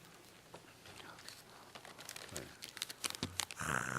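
Large plastic bag crinkling and rustling as it is handled during a sermon, with irregular crackly bursts growing denser and louder toward the end.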